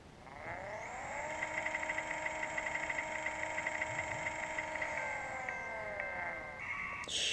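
Lamborghini Gallardo LP 570-4 SL engine in a racing video game, a steady loud high-revving drone with stacked tonal harmonics that holds for about six seconds, then shifts pitch as the run ends.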